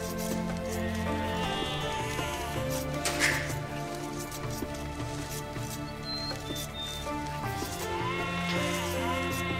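Sheep in Age of Empires II bleat faintly a few times over steady in-game music and ambience.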